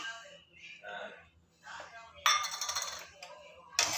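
Dry urad dal lentils hit a hot metal pan for roasting while lunch-box food is cooked: a sharp rattling scatter of grains rings out, then a second short clatter, with someone talking in the pauses.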